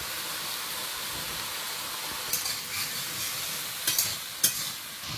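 Vegetable curry sizzling steadily in hot oil tempered with Bengali five-spice in a home kitchen, a soft continuous frying hiss with a few sharp stirring clatters near the end.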